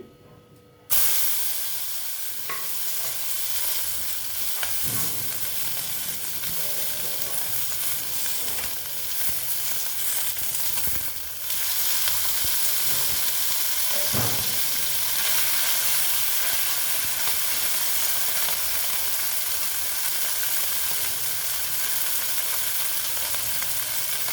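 Small mourola fish frying in oil, a loud continuous hissing sizzle that swells after a brief quiet start, with a few clinks of utensils, close up and with no talk.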